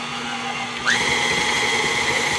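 Electric mixer beating cookie dough being turned up to high speed. A motor whine jumps sharply in pitch partway through, then holds as a steady, fairly loud high drone.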